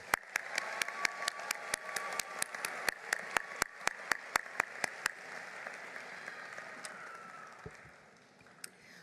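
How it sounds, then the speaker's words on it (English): Commencement audience applauding at a college ceremony: sharp, regular claps ring out over a steady crowd wash for about five seconds, then thin to scattered clapping and fade. "Please join me in applauding these special guests."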